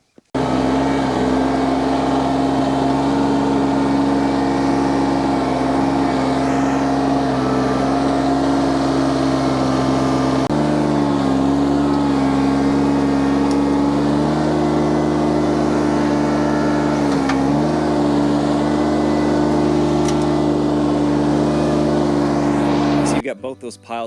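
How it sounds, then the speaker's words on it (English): John Deere tractor engine pushing burning debris piles together on a cleared build site, a loud steady diesel drone with slight load changes partway through, running continuously for over twenty seconds. "I might actually just grab the tractor and just fold her back over one more time."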